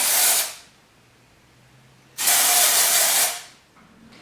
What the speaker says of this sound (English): so I'm going to spray some stuff to make my roots slightly lighter